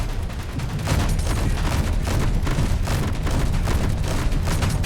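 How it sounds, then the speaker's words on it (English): Turrets in the Space Engineers survival game fire in a relentless, loud barrage of rapid shots that runs with no pause and no voice over it. "Oh my god, he was shooting me through the wall."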